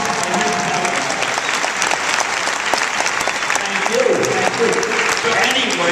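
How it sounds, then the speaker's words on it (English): A large convention crowd at a comic con Q&A gives Stan Lee a sustained round of applause. The dense clapping holds steady throughout, with some scattered cheers and voices in the crowd. "I wanted to maybe everybody give him a round of applause"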